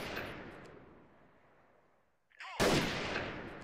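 Sniper shots fired in a video game: a loud blast whose boom trails off over about two seconds, then a brief mechanical clack and a second sharp, loud shot with a lingering tail.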